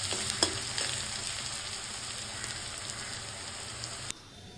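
Onions frying lightly in a pan for a mutton curry, a steady close sizzle with faint stirring scrapes, continuous for about four seconds before dropping away abruptly.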